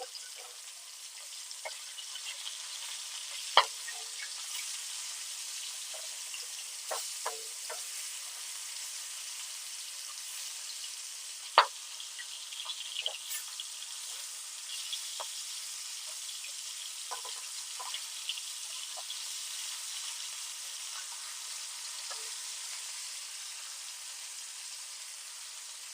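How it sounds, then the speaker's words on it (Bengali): Hilsa fish fries in hot oil in a wok, a steady, fairly soft sizzle with scattered sharp pops and crackles that runs alone for the whole stretch. "আমি সর্ষে ইলিশের জন্য মাছটা প্রথমে হালকা করে ভেজে নেব।"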